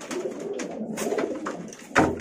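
Domestic pigeons being paired coo in soft, throaty bursts close by, with fluttering scuffles and a sharper rustle near the end.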